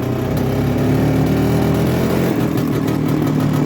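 A Soviet Muravei TMZ-5 three-wheel scooter runs in first gear, its small engine putting out a loud, steady buzzing drone at close range with no voices.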